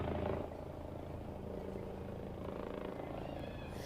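Helicopter flying over Nepal during protests, a steady rotor and engine drone holding at an even level throughout, slightly louder at the very start.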